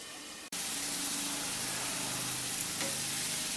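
Spice masala with tomato frying in a covered pan for egg soyabean curry, a loud, dense, even sizzle that starts abruptly after a brief moment and holds steady, with a faint clink near the end.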